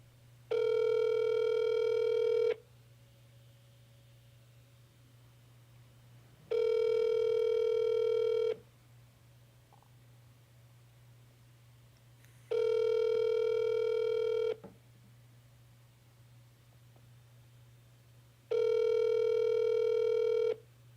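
A telephone ringback tone on an outgoing call, four evenly spaced two-second rings separated by about four seconds of quiet, clear and close with a low hum underneath.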